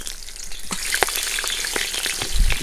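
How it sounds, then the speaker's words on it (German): Onion skins frying in hot oil inside a kazan for Samarkand plov, a steady bright sizzle with scattered crackles and pops, close and fairly loud, without any talk. "Jetzt fügen wir Zwiebelschalen und aromatisieren unser Öl."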